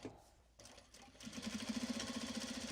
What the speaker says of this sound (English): I'm trying to not sew over my fingers